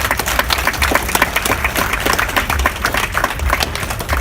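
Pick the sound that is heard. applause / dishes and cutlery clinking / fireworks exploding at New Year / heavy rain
applause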